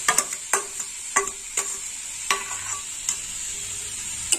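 A spatula scrapes and taps against a wok while grated coconut is stirred for coconut sweets, with irregular metallic clinks over a steady soft frying hiss, faint and close.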